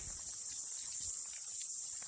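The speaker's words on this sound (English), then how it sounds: "Man, those cicadas." Cicadas buzz in a constant high-pitched drone throughout, steady and moderately loud outdoors at an animal sanctuary, with no other sounds standing out.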